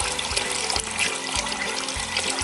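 Water pours and trickles steadily over beans being washed in a bowl for Nigerian akara, a close, continuous splashing flow with brief gushes and no talking.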